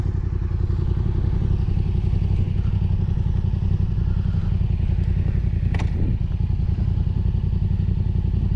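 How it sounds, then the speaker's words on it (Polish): Raptor quad with Kuba riding it, its engine droning loud and steady up close throughout, with a brief clatter and thump partway through. "Kuba, pierwszy raz jazda raptorem od nie wiadomo kiedy."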